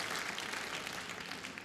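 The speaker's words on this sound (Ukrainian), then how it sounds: "Давайте аплодувати гучно-гучно один одному" An audience at a comedy music show claps loudly and steadily, a dense, continuous applause that fades slightly toward the end.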